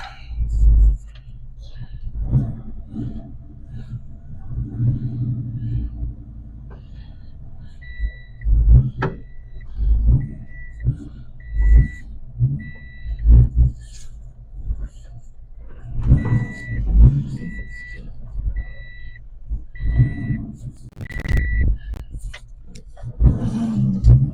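Ford 302 V8 with a freshly replaced cam, idling rough and lumpy with uneven pulses and occasional revs, loud and close, a chime beeping intermittently and voices talking over it.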